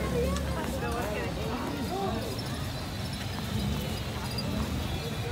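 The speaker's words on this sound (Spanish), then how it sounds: "Aquí en el caballito, hagan espacio para el caballito." Horse hooves clip-clop steadily on pavement in a park during a tourist ride, a regular clopping rhythm heard under nearby chatter and crowd babble.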